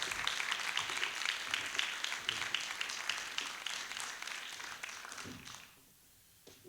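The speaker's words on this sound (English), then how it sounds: "thank you for that warm round of applause" Audience in a lecture hall applauding as a cardinal is welcomed to the stage, a dense, sustained round of clapping that tapers off and stops near the end.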